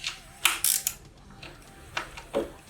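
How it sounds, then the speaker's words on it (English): Ratchet clicks in short bursts as two 10mm acorn nuts come off a Yamaha Warrior 1700 motorcycle horn, close and fairly quiet, with a few separate bright mechanical ticks spread over a couple of seconds. "Now to take off the horn, we're going to remove the two 10mm acorn nuts that are holding it on."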